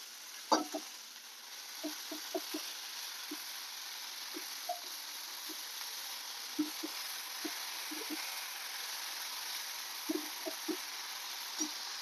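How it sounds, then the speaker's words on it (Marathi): A bunch of dill leaves goes into a sizzling tempering in a pan, giving a faint steady hiss with scattered soft clicks and rustles as the greens settle and are stirred, with no talking. "आता आपण यामध्ये एक गड्डी ही शेपूची ती टाकून देतो"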